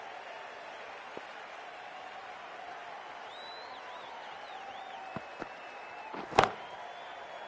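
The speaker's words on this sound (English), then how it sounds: "the excitement emanating from this crowd at the moment" Stadium crowd in a PS5 cricket game, a steady distant roar of murmuring spectators with a few scattered claps and thumps and one sharper knock near the end, continuous and fairly quiet, with no talk.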